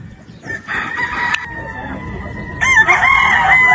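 A yellow-legged Sweater gamefowl rooster crows at a game farm, the drawn-out call heard twice, the second crow louder and closer, with faint clucking and farm noise around it.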